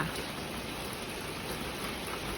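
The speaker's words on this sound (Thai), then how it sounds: "ตอนนี้ ฝนกำลังตกค่ะ" Steady rain pouring down outdoors, a dense, even hiss of drops on surfaces that carries on without a break, alone with no voices.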